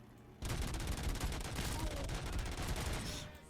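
Rapid automatic gunfire from a gun in the RoboCop video game, a loud sustained burst of fast repeated shots starting abruptly and running about three seconds before cutting off.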